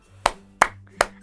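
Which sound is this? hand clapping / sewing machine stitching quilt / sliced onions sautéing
hand clapping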